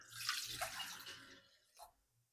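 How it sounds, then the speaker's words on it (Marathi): Water pours into a pressure cooker pot holding washed dal, a close, continuous gushing splash that tapers off after about a second and a half, ending with a faint drip. "त्याच्यानंतर पाणी टाकायचं."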